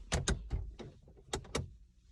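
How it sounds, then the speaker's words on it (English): The door of a 2005 Toyota Vehicle 4Runner closing, heard as several sharp close thumps and clunks in quick succession with no talk. "Let me close the door and let me show you in the dark."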